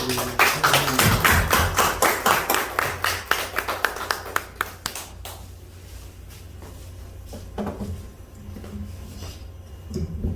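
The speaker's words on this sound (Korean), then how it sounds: "우리 큰 박수로" A church congregation claps for a guest speaker back from Madagascar: about five seconds of loud, sharp, rhythmic claps, then fading into scattered, quieter claps and taps.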